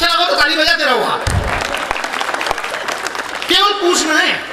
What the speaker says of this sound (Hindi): अच्छा लगा तो ताली बजाते रहो आप